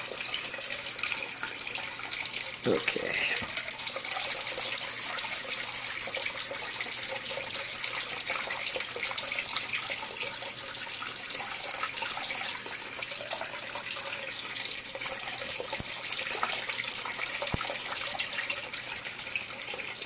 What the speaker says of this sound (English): I'm just gonna pour off some of this excess water